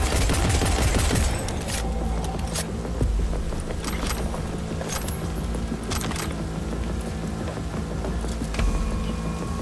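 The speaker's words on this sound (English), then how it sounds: "this gun is tough, I'm not gonna lie" A gun fires repeatedly in the video game Cyberpunk, giving loud, sharp cracks in irregular bursts over a busy bed of game noise and mechanical clatter, without speech.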